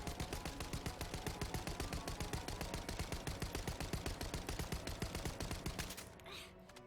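Sustained automatic gunfire from a weapon in The First Descendant, fired without recoil mods, hammers out in a fast, even stream of loud shots for about six seconds before cutting off abruptly.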